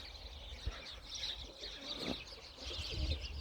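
Pigeons in a loft with their young, giving soft, low cooing calls that carry faintly over a quiet background, with a few brief rustles and no speech.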